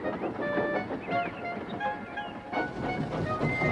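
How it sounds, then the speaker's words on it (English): A steam engine hauls a train of heavy coal cars past, a continuous rumbling rail roll with faint clanks and squeals, close and steady throughout. "Douglas steamed by. He was pulling a train of heavy coal cars."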